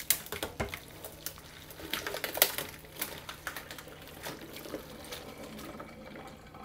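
Hot water is poured over a Galaxy Note 9 and an iPhone X, giving soft, irregular splashing and trickling with small clicks and taps, quiet and close, with no talking.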